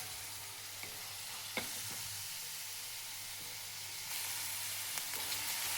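Onion frying in oil with mustard seeds and cumin for a Maharashtrian dal kanda, a quiet continuous sizzle with a few sharp utensil clicks and stirring taps, close up and free of speech.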